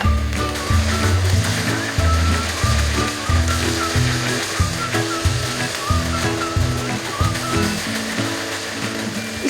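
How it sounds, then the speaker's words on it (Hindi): Pumpkin halwa roasts in ghee while it is stirred. A loud, continuous sizzle and scraping sound sits under a strong rhythmic music track, with no talking. "जो बाकी मैंने घी रखा था वो मैं इसके अंदर शामिल कर दूँगी और इसको अच्छा सा भून लेना है और मुसलसल इसको हिलाते रहना"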